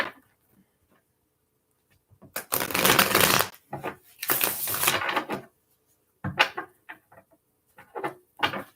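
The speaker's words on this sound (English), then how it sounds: "Give it a couple good shuffles." Tarot cards being shuffled in several quick riffling bursts, crisp and close, separated by short pauses and a few lighter taps.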